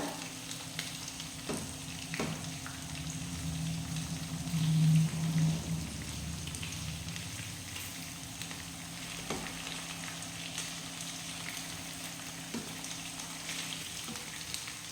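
Chicken pieces frying in a pan for a chicken curry give a steady, close sizzle and crackle, with occasional soft knocks as the pieces are turned over.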